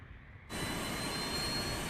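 A jet aircraft in an episode of the anime My Hero Academia roars in abruptly after a quiet start, then holds as a loud, steady broadband engine rush.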